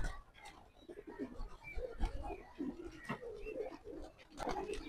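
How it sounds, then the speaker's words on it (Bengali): Jalali pigeons cooing close by, soft repeated throaty coos rising and falling over faint background rustle and scattered low noises, quiet overall. "দেখেন এই একটি জালালি কবুতর"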